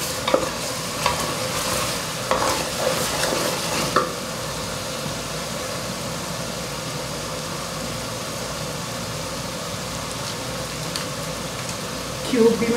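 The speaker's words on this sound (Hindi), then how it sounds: "मसाले को हम थोड़ी देर भून लेंगे।" Whole spices and chilies frying and being stirred in a pot for chana pulao, a steady close sizzle with scraping stirs, busier in the opening seconds, running throughout without talk.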